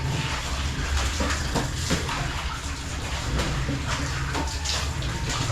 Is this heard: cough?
no